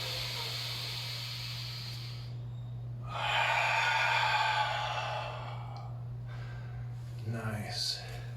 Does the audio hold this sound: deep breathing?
yes